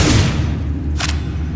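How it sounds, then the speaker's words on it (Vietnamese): Gunfire in the Roblox game The Stalker: Reborn: a loud booming burst at the start, then one short sharp shot a moment later. "súng có vẻ bắn được rồi đó"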